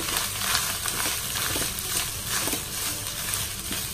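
Grated coconut and dried red chillies frying in a pan for Onam koottu curry, with a soft continuous sizzle and scraping stirring strokes, fairly faint.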